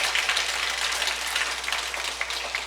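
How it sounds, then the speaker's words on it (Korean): Applause from a church congregation at Yonghyeon-dong Catholic parish after a Sunday Bible class talk, a dense, steady patter of hand claps filling the room at moderate distance for the whole stretch. "박사님께 다시 한번 감사의 박수 부탁드립니다."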